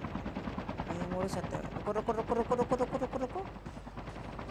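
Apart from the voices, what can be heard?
helicopter flying in video game Call of Duty Mobile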